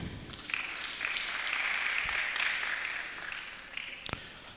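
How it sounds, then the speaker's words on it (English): Audience applause at a national public speaking competition semi-final, a steady wash of clapping that swells, holds for several seconds, then tapers with a few louder final claps. "Another round of applause for Jose, Faith."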